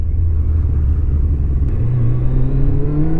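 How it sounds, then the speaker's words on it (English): A Kawasaki ZZR 1100 motorcycle engine, suffering a slight hesitation, is revved with the throttle opened; a loud, steady low rumble climbs in pitch toward the end, with no talking. "There's a little hesitation then when I open the throttle."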